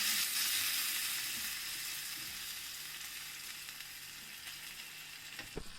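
Rice frying with white cumin seeds in a pan for Bengali-style masoor dal chawal gives a steady, close sizzle with no talking, easing off slightly toward the end.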